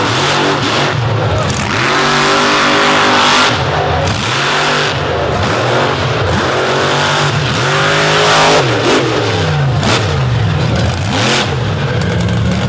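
A monster truck engine roars and revs hard around a dirt track at a Brooksville event, repeated throttle surges rising and falling loudly through the clip, with crowd noise underneath.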